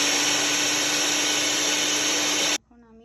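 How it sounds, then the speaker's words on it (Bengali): A blender whirs steadily while mixing sugar for borhani, a loud continuous motor drone that cuts off abruptly near the end, leaving a quiet tail. "চিনি দিয়ে আমি আরেকটু ব্লেন্ডার করে নিব।"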